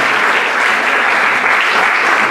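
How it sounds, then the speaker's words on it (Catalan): Dense, loud applause from a theatre audience at a drama group's anniversary event, an even, unbroken roar of clapping for the whole stretch. "Un aplaudiment"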